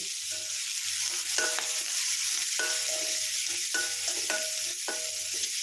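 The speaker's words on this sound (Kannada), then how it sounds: "ನೋಡಿ ಈ ರೀತಿ ಚೆನ್ನಾಗಿ ಫ್ರೈ ಮಾಡ್ಕೊಳ್ತೀನಿ" Spices sizzle steadily in a pan as the base for a dry fish gravy, a constant hissing fry with faint periodic tonal clinks and hums behind it, close and continuous, with no talking.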